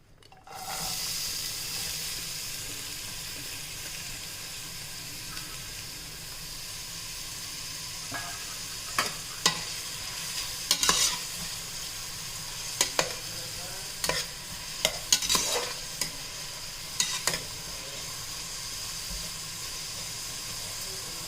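Onions and green chilies frying with mutton and cardamom in a pan, a steady close sizzle with a string of sharp spatters and stirring clacks scattered through the second half.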